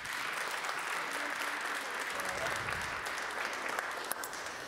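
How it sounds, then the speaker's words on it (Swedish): An audience in an opera house applauds the performers, a continuous dense patter of clapping that stays fairly faint and even, with a low voice murmuring partway through. "jag tycker alla medverkande här kan få en applåd"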